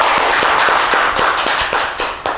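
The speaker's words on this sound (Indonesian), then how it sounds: "Tepuk tangan dulu." Audience clapping during a podcast recording, a loose patter of hands with several sharp, distinct claps standing out, fading slightly toward the end.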